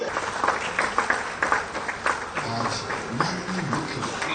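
Audience applause at a government ceremony led by Chief Minister Hemant Soren for newly selected urban development and housing department candidates, a steady crowd clatter with a voice murmuring underneath.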